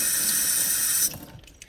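Water gushes loudly from a tap for about a second, a steady hissing stream that cuts off abruptly, leaving faint drips and small knocks in a quiet room.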